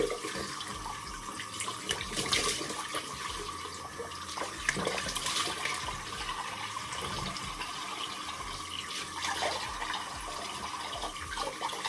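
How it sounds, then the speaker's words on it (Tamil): Faucet water running steadily at a sink during face washing with homemade skincare products, a soft continuous splashing hiss with faint clatters, fairly quiet and close. "இப்போ நான் வந்து வாஷ் பண்ண போகிறேன்."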